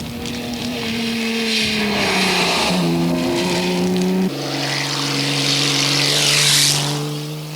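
Classic sports cars from the Tour Auto rally, such as AC Cobras, Maseratis, Jaguars and Porsches, climb a hill at full throttle, one after another, with engines revving high, shifting gears and droning loudly close by.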